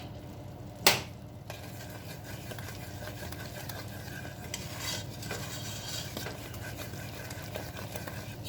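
Syrup for a fruit cake is stirred in a pot, a spoon scraping and clinking softly and repeatedly against the metal, with one sharp knock early on and a faint simmer underneath.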